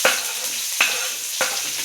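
Chana dal, dried red chillies and curry leaves sauté in a pan with a constant close sizzle, punctuated by three sharp scraping stirs about half a second apart.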